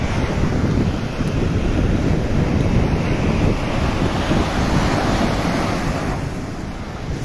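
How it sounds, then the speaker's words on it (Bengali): Ocean waves roll and crash continuously on Chennai beach at night, a loud, broad surf roar mixed with wind buffeting the microphone, with no talking. "এই দেখছি বিশাল ঢেউ।"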